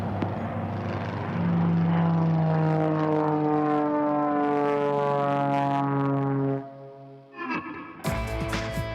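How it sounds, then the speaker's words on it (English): A propeller airplane takes off from runway 17 right, its loud engine drone rising in pitch as it accelerates, then briefly dipping before a sharp, bright burst of noise near the end. "Ace 1 will take off on the right, followed by Ace 2"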